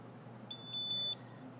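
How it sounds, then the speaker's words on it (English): A quick pair of high electronic beeps from an Opticon OPN-2005 Bluetooth barcode scanner connecting to an Android device, the second slightly longer, over a low steady background hum. "The scanner will beep once connected."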